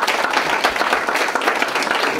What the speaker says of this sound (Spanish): Un aplauso, compañeros.